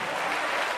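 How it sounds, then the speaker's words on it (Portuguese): A church congregation applauds together in a brief, dense burst of steady clapping that fills the whole moment. "Vamos aplaudir muito o nosso Senhor."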